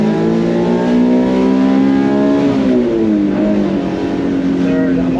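A 1993 Mitsubishi Minicab with its mid-mounted engine under the seat revs hard while driving, a loud, close engine note climbing steadily, dipping briefly at a gear change, then pulling up again toward fourth gear.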